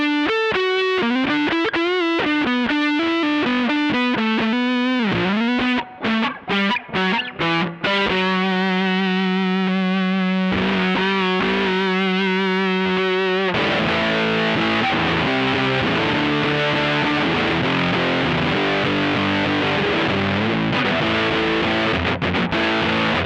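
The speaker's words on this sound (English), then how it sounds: "It's really kind of what I understand a silicon fuzz to sound like." Electric guitar through a Red Witch Ruby Fuzz silicon fuzz pedal, first picked notes and runs, then a sustained lead note, then thick fuzzed chords with a buzzy saturated wash, played alone.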